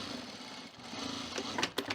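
A sewing machine stitches over a seam to reinforce it on a Funky Friends hedgehog plush toy, giving a steady close whirring hum that pauses briefly and then ends in a few short bursts.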